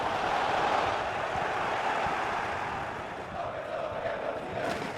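A football stadium crowd at a Bundesliga match with Hannover 96 roars in a continuous, dense wash of noise, swelling and easing slightly as fans urge their team toward a goal.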